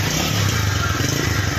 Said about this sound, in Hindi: और गाड़ी का इंजन का साउंड देखिए आप, इंजन का साउंड सुनिए एक बार